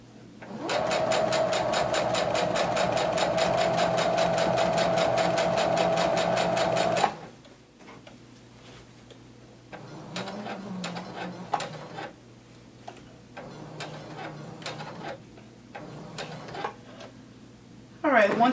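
A sewing machine stitching the waistband of a maxi skirt runs in a steady, close, loud whir for about seven seconds, then stops while a person talks over fabric rustling and small clicks.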